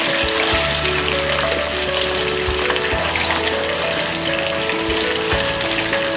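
Ginger garlic paste sautéing in a pan for instant mango pickle, producing a loud, dense, continuous sizzle with a crackling, rain-like texture and faint steady tones underneath, no voices.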